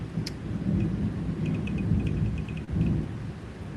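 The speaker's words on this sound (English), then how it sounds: "It's thundering pretty good." Thunder rumbles low and long during a thunderstorm, with rain falling throughout and a few faint clicks and taps nearby.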